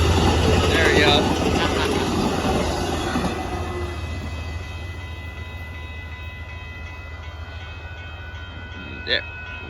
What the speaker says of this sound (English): there goes the southbound Amtrak